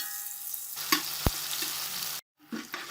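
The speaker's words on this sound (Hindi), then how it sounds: "तीन से 4 मिनट के लिए मटर फ्राई करेंगे।" Pre-boiled frozen peas fry in a pan with a soft, steady sizzle, broken by a couple of light knocks and a brief silent gap near the end before the sizzling resumes.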